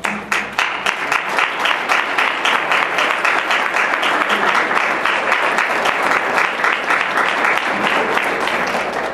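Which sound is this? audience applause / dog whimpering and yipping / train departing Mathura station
audience applause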